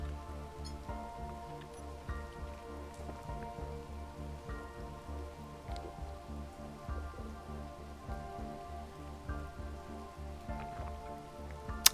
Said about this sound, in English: Yeah, I can still see the rain.